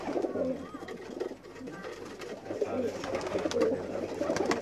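Pigeons coo softly in low, rolling murmurs, several birds close by in a Pakistani pigeon keeper's loft, with faint background noise and occasional rustling.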